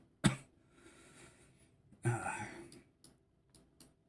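A person coughs twice in a tabletop role-playing game session, a sharp near cough followed by a longer harsh one, with faint voices and room noise in between.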